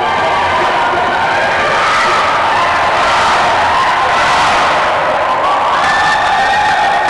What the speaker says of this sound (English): And here you see the GB girls cheering.